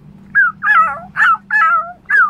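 A child imitates a dog with five loud, close, whining barks and howls, each about half a second long, separated by short pauses over a faint steady hum.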